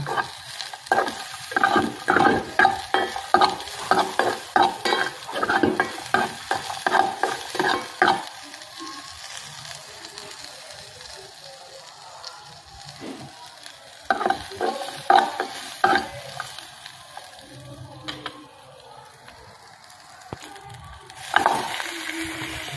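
Garlic and onion sauté in a pan for chicken tinola, a close frying sizzle broken by bursts of rhythmic stirring and scraping that come and go, with no voices.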